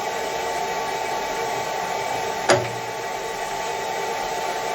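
A die filer machine running with a steady, even mechanical hum and whirr, close and continuous, broken by a single brief click partway through, with no talk.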